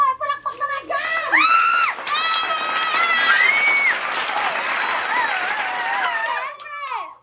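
A small outdoor family group claps and cheers, with children's voices and excited shouting over the applause, lively and close, and talk running throughout.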